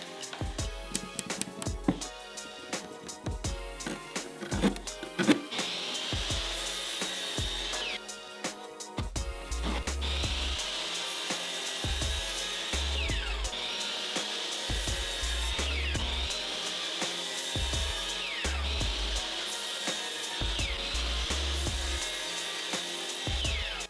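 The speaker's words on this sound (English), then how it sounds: "We need 6 pieces out of our 1x4 at 38 inches. Let's measure them out, head to the miter saw, and get to cutting." Miter saw cutting 1x4 boards into 38-inch pieces for a shoe rack, heard as a string of loud, whining cuts with repeated spin-ups and run-downs, close to the microphone and with no talk.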